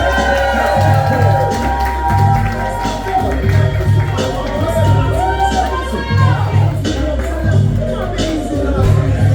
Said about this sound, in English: let's give a round of applause for Lala